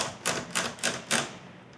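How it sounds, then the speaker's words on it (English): The ratcheting mechanism of a leveling caster on a DIY outfeed table clicks four times in an even rhythm, each a crisp, close mechanical burst of rattling clicks, with no voices. "they have this ratcheting mechanism"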